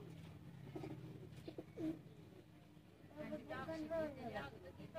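Teddy pigeons, a pair kept for sale in Sialkot, coo in low throaty bursts close by, with someone talking over and between the calls.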